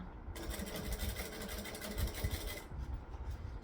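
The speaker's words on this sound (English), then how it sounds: "And then I want to top stitch along here." A sewing machine top stitches fabric in a quiet room, its motor whirring in one steady run of rapid needle strokes that stops shortly before the end.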